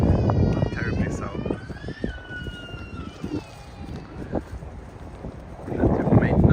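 Wind blows on a Tokyo street, buffeting the microphone in gusts with low rumbling that swells strongly at the start and end, while people talk in the background.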